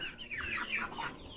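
Brahma chickens clucking close by, a quick run of soft, faint clucks with no other sounds.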